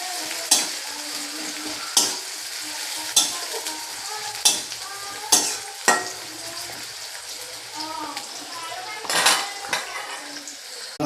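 Chicken stir-fried in a pan: a spatula scrapes and clanks against the metal about every second and a half, sharp and close, over a soft continuous sizzle.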